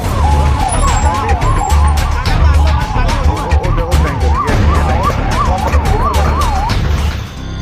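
Several ambulance sirens wail at the scene of a gas tanker fire accident in Bhankrota, Jaipur, with a loud, continuous up-and-down warble over dense traffic and crowd noise, and voices underneath.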